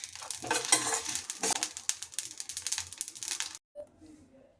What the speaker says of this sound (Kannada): ಇವಾಗ ಅದೇ ಪಾತ್ರೆಗೆ ಸ್ವಲ್ಪ ಜೀರಿಗೆ, ಒಂದು 3-4 ಒಣಮೆಣಸಿನ್ಕಾಯಿನ ಹಾಕಿ ಫ್ರೈ ಮಾಡ್ಕೋಬೇಕು.